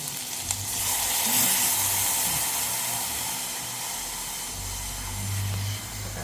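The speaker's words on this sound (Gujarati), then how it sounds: "હવે એમાં છાશ નાખવાની." Buttermilk hits a hot spiced tempering for a peanut and potato khichdi, giving a continuous hissing sizzle that swells and settles over several seconds with a faint low rumble beneath.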